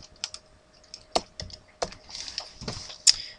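Typing on a computer keyboard while coding in C#: a short burst of crisp, close key clicks in an uneven rhythm, about a dozen strikes with brief pauses, no talking.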